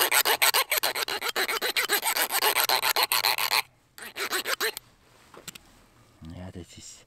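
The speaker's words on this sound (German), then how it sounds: "Ich will den Klingenrücken da ein bisschen anschärfen." A file on a Roxon multi tool rasps along the spine of a knife blade in quick rhythmic back-and-forth strokes, loud and close, then pauses and resumes briefly before fading, with someone talking.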